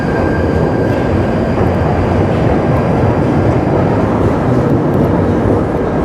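A London Underground tube train on the southern Balham to Morden section pulls away and enters a tunnel, a loud, steady rumble and roar of wheels and motors filling the whole stretch with no voices.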